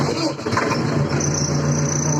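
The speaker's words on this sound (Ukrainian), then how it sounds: "Ще хочу показати, як заводиться трактор." A Scout 404C tractor's engine catches and settles into a steady mid-pitched running drone with a faint whine above it, close by and fairly loud, with no talk.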